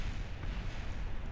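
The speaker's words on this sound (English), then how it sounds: "I just want to point out that I do hear lots of explosions in the background." Explosions in the video game Kerbal Space Program while launching excessively large craft: a dense, continuous rumble of overlapping booms that stays fairly low in level.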